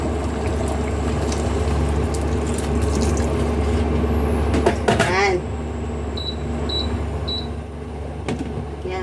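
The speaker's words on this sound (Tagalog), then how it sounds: "Dagdagan natin ng tubig." Water pours into a pot of beef afritada, a brief splashing burst midway over a steady low cooking hum and background noise.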